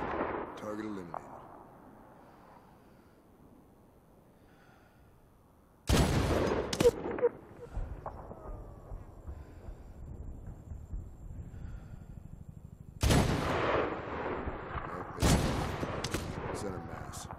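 Sniper rifle shots in the video game Medal of Honor crack loudly twice or three times, sharp bursts separated by quieter stretches of ambient battlefield sound and radio-style voices.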